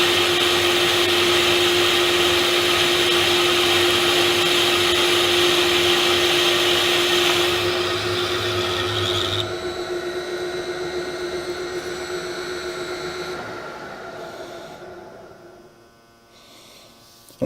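A machine tool whines steadily as it takes a cut on a 1931 Ford Model A flywheel, a loud continuous hum with a strong pitched tone that slowly shifts and winds down toward the end.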